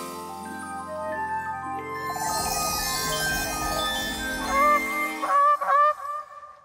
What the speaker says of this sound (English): It's the swan.